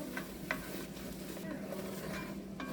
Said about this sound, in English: And you just want to scrape the bottom and get all that good stuff off the bottom of there.